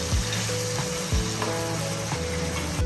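Tinola with bitter gourd (ampalaya) simmers and sizzles steadily in a pan, a continuous cooking hiss with a few soft clinks and background hum throughout.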